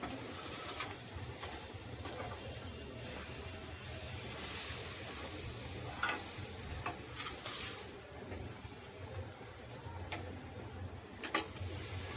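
Grated coconut is stirred into melted jaggery in a pan for coconut vadi, a faint, continuous sticky scraping and soft sizzle with occasional light clinks of the spoon against the pan, no talking.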